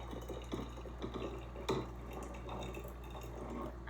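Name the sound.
pouring hot water into a beaker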